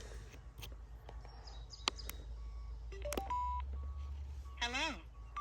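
Sena 10C Evo helmet camera intercom powering on, giving a short run of electronic beeps and rising and falling chirp tones over a low hum, ending in a warbling sweep near the close.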